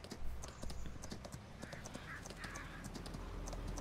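Horse hooves clip-clop in Farming Simulator 19, a steady, quiet patter of rapid hoofbeats over faint background noise.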